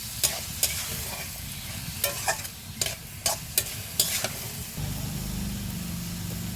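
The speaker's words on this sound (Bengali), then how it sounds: "এই যে মশলা কষায় নিলাম।" Spices with chopped garlic and salt being sautéed in a pan for a dried-fish dish, a steady frying sizzle with scattered sharp scraping stirs on top, plus a low rumble underneath.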